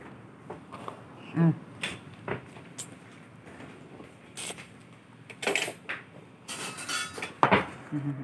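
Scattered clinks and clatters of dishes and plates being handled, with a few sharp knocks, while people talk in the background.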